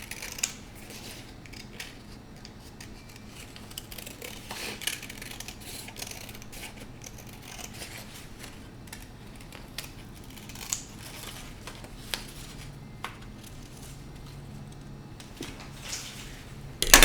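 Scissors snip steadily around a paper cutout with curved edges, a long run of small crisp cuts and faint crinkles close by, with no talking.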